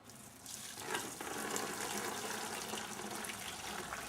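Hot elderflower brew is poured into a brewing vessel, making a continuous gushing, splashing flow that swells after the first half second and stays loud and steady, with no talking.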